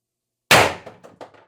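A single sharp shot from a CO2 stock-build gun powered by four 12-gram cartridges, loud and abrupt, followed by a few quick fainter mechanical clicks and rattles as it settles.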